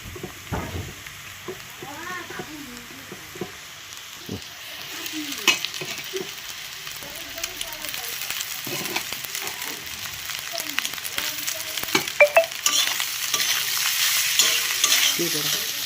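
Cooked rice, seasoned with bay leaf and cardamom, stir-fried in a pan, with continuous sizzling and rhythmic scraping of the spatula, loudening in the second half, with faint background sounds but no clear talk.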